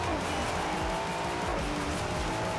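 Car engine roaring steadily in the racing game Forza Horizon 4, with faint tire squeal and a continuous, fairly loud drone throughout.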